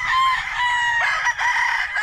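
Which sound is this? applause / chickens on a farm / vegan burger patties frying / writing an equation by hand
chickens on a farm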